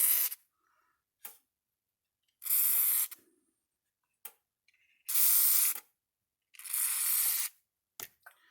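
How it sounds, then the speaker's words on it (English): Several short hissing bursts of WD-40 spray into a Speedrite 12000i fence charger, about four, separated by small clicks and taps of the mechanism, close and clear. "spray some WD-40 down inside here."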